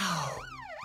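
A brief electronic toy siren, one tone fading out before a wailing sweep starts, close and fairly loud.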